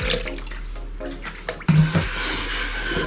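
Water poured into a sweet-tart tamarind mixture for popsicles, a steady moderate splashing stream close by that runs through the whole moment, with no talking.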